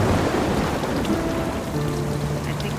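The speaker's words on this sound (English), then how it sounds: "as we hear another rumble of thunder" A low, continuous rumble of thunder rolls through steady rainfall in a storm, filling the whole clip at an even, fairly loud level with no voices.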